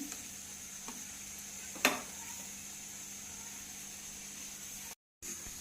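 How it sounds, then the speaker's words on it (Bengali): Boiled chicken pieces sautéed with spices in a pan for chicken chowmein, giving a faint steady sizzle with one brief clatter near the middle and a short dropout near the end. "চিকেনটা দিয়ে ভালো করে কষিয়ে নিচ্ছি"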